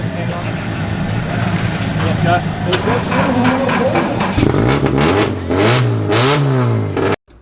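A Toyota 86 drift car at a D1NZ drifting event, its engine started close by and revved repeatedly in rising and falling sweeps before cutting off, with people talking over it.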